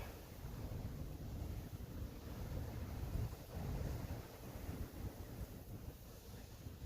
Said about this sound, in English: you can't even hear anything I'm saying because of the wind